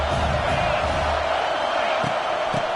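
A stadium crowd at an SEC college football game roars steadily on a big third down, a continuous dense wall of cheering with a few deeper thumps near the end.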